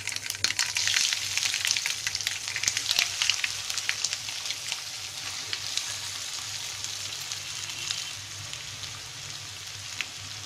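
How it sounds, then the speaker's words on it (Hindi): Cut pieces of lauki (bottle gourd) muthia frying in a pan, giving a steady bright sizzle with crackling pops that stays fairly loud and constant throughout, with no voices. "पैन के अंदर हम कटा हुआ मुठिया डाल देंगे।"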